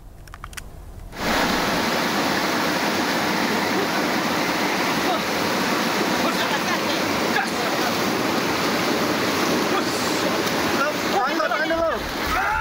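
Strong river current of the Lubuk Minturun river in Koto Tangah, Padang, West Sumatra during a rescue evacuation, a loud, continuous broadband rush of water filling the whole clip after a brief quieter opening.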